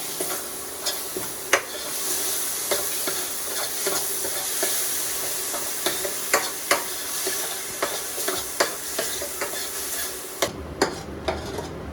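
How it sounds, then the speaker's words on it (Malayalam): A small-onion spice paste sautés in a pan for Kuttanad-style karimeen pollichathu. A steady close sizzle runs underneath while a spoon scrapes and taps the pan in irregular clicks, and the sound thins out near the end. "പേസ്റ്റാക്കി നമ്മൾ ഇതിലേക്ക് ഇടുക ഇതൊന്ന് വഴറ്റുക"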